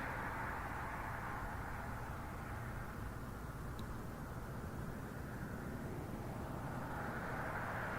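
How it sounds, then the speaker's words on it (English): Heavy Air Canada jet taking off at Toronto Pearson, a continuous broad engine roar holding steady at a distance and swelling slightly near the end, with no voices. "Alright, our first heavy departure for the night camera"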